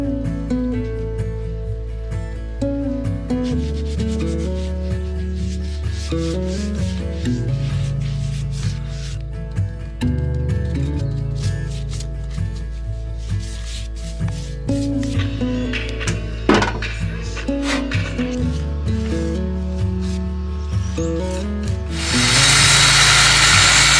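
Painted wood inside a shed being converted into a home is sanded with continuous scratchy rubbing, close and fairly loud, over steady background music, ending in a burst of brighter hiss.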